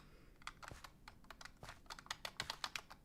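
Quick, uneven clacking on a computer keyboard during a Minecraft survival session, with bursts of close keystrokes that speed up toward the end.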